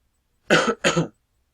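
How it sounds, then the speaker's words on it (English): Two sharp coughs in quick succession, close and fairly loud, with silence before and after. "I recently quit smoking, and it's making me cough a lot"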